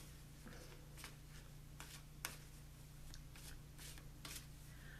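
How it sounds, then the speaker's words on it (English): Angel cards being shuffled by hand, a series of soft papery riffles and taps repeating every half second or so, faint and close against a steady low hum with no talking. "so now I'm shuffling the romance cards"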